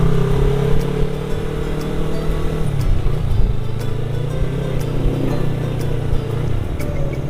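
A two-cylinder 250cc motorcycle fitted with a loud racing exhaust runs in a steady low rumble, its pitch shifting slightly as the engine note rises and falls, close and loud with occasional sharp clicks.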